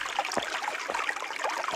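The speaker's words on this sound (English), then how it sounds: "Lots of water flowing" A fast-flowing snowmelt creek on the Arizona Trail runs close by as a steady bright rush and trickle of water with small splashes and no voices.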